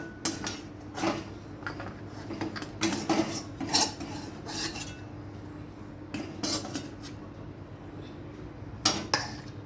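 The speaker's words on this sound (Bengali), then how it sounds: "এবার আমি এটা নামিয়ে কড়াইটা একটু পরিষ্কার করে নেব।" Utensils clink and scrape against a metal kadai wok and pots during cleaning, with irregular bursts of clattering and rubbing at close range in a quiet kitchen.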